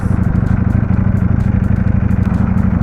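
A Ducati Panigale V4S motorcycle idles close by at night, its engine throbbing in a loud, even, rapid pulse throughout.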